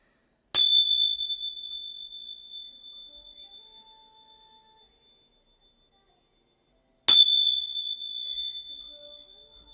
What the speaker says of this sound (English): I am going to ring my bells quickly here